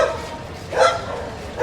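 A dog barks once, moderately near, on a busy holiday street at night, set against a steady murmur of background ambience with no talking.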